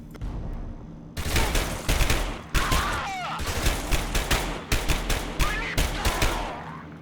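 Rapid volleys of video game gunshots fire in repeated bursts with brief gaps between them, loud and punchy, with a faint voice underneath.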